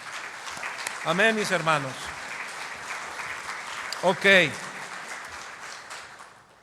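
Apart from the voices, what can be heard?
congregation applauding in church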